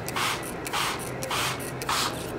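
A hand spray bottle pumping water onto a model watershed of farm and city, four quick hissing bursts at an even rhythm, close and clear with no talk.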